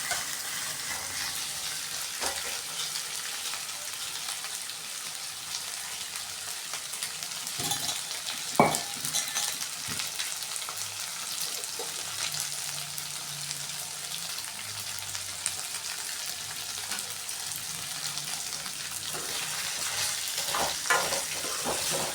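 Boiled, cut colocasia (taro root) fries in hot oil and is stirred, producing a continuous close sizzle with occasional spoon scrapes and clinks throughout the long stretch, with no voices.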